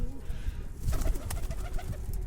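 A pigeon coos close by in a short, soft, throaty burst that rises and falls, over faint background noise.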